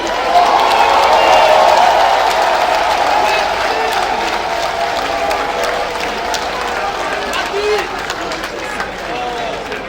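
A crowd at a political rally in Soubré cheers and applauds loudly and continuously, a dense wash of clapping and shouting that eases slightly over time.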